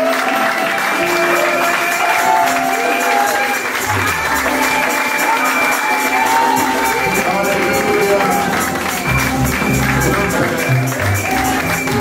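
A church congregation applauds and cheers together in a continuous dense wash of clapping and voices that holds steady throughout.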